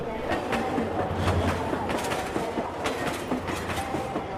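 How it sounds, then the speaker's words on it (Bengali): A train rolls steadily into a station platform, its wheels clattering in a continuous rhythmic clickety-clack with a low rumble, moderately close and without talk. "যথাসময় ট্রেন ঢুকল"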